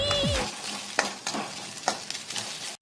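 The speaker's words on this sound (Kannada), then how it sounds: "ಪನ್ನೀರ್ ಆ್ಯಡ್ ಮಾಡ್ತಾ ಇದ್ದೀನಿ." Paneer cubes tossed into a hot pan for street-style fried rice: a steady oily sizzle with a few sharp scraping stirs of a spatula, close and fairly quiet, with no talking.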